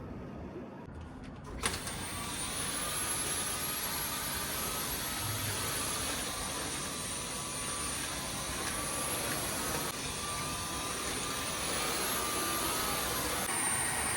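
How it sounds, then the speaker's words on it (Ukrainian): Wet-cleaning vacuum cleaner switched on outdoors on an open balcony, its loud, steady whirring hum starting abruptly after a short quiet moment and continuing without pause. "Ця штука, до речі, офігенна. Це миючий пилосос."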